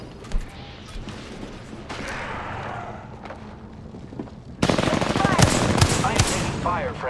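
Gunfire in Apex Legends, with a distant shot and low mechanical game ambience at first, then loud rapid automatic fire and impacts from the midpoint onward, with a player's voice mixed in.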